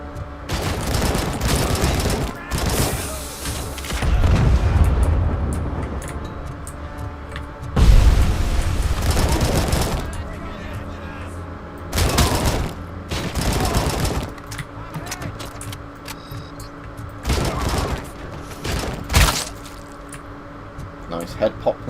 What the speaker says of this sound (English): It's quite nice how most of the walls sort of fall apart as you're shooting them.